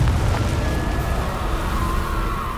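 A Confringo blasting spell in the Hogwarts Legacy video game produces a sustained, rumbling explosive roar with a faint whistling tone running through it, steady and loud throughout.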